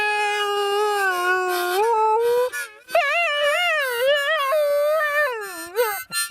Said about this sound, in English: all they want to do is come and sit beside me and howl with me